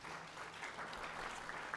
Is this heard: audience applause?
yes